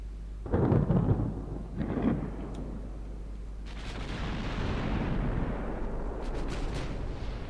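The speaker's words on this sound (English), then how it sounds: "Why are you firing HE?" Naval guns in the warship game Ultimate Admiral Dreadnoughts fire high-explosive shells, two heavy booming reports close together followed by a long rolling rumble of more distant gunfire and crackling impacts, with no talk.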